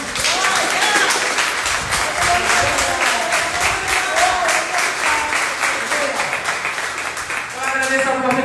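A church congregation claps rhythmically in time during a Portuguese-language worship service, a steady crowd beat of hands with voices and singing mixed underneath.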